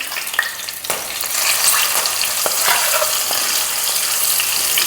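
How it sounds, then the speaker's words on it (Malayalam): Ground masala paste frying in oil with green chillies and curry leaves for a Kerala-style fish curry: a dense, loud, steady sizzle swells after a second, broken by a few sharp spatula knocks. "ഇളക്കി നമുക്ക് നമ്മുടെ അരപ്പിട്ട് കൊടുക്കാം"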